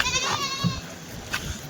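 Rajasthani billy goats bleating at a livestock market, a couple of short nasal bleats close by with faint background noise and a brief voice.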